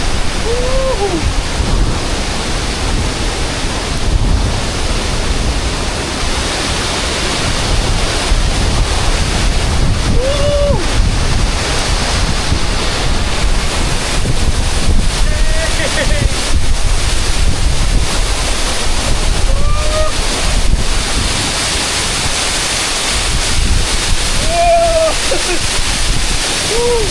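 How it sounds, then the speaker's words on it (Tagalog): Hulugan Falls in Laguna roars as a broad, steady wash of falling water close by, mixed with heavy wind buffeting the microphone, with brief whoops and bird chirps over it. "Palapit tayo ng palapit doon sa falls."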